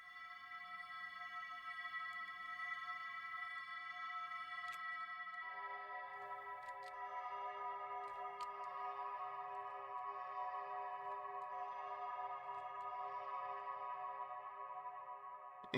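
A sustained synth pad built from a sample in Ableton holds a smooth chord with a long reverb tail, shifting to a fuller, brighter voicing midway and ringing on steadily at low volume.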